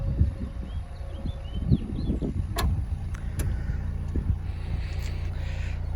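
A 2020 Volvo XC40 T5 AWD R-Design power tailgate closing and the car locking: a motor whir and soft thumps, then several short sharp electronic chirps and clicks, heard close over low idling traffic rumble.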